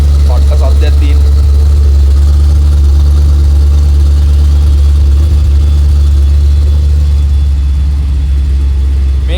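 A Holden Commodore SSV set in sports mode runs with a loud, steady, deep engine rumble held close and constant throughout, with a brief voice heard near the start.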